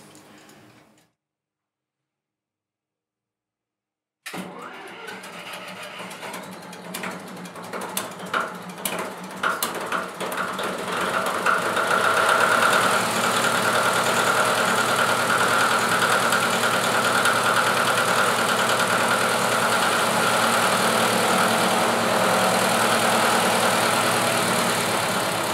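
Emergency diesel generator aboard the ship Stubnitz starting after a simulated loss of onboard power: silence, then mechanical clattering and cranking that builds into a loud, steady engine roar running continuously.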